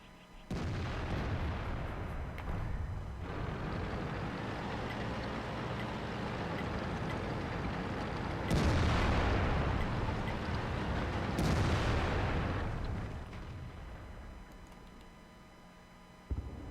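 Video game combat with deep booming explosions and heavy bursts of fire: a long, loud rumbling barrage, cut by two sudden strong blasts, then fading toward the end, with no voices.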